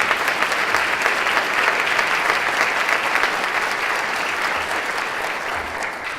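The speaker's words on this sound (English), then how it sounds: "let's give him a round of applause as well" Applause from an audience at a county government state-of-the-county address, a dense, steady clapping that carries on for several seconds and tapers slightly toward the end.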